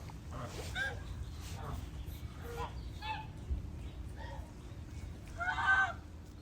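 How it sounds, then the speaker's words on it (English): A white goose honks several times in short, nasal bursts at moderate volume, with the loudest call near the end, over a low background hum. "White goose."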